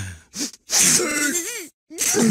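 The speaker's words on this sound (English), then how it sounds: "One big sneeze." A cartoon character gives one big sneeze: a sharp inhaled gasp, a loud burst, then a pitched vocal tail, with brief silences between close, loud sounds.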